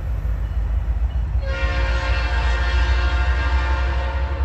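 A Norfolk Southern freight train rumbles past at Creighton, Pennsylvania, and its locomotive horn cuts in loud and steady partway through, sounding over the heavy low roar of the passing cars with no talking.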